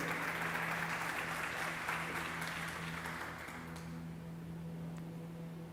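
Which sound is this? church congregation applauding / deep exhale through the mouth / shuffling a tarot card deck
church congregation applauding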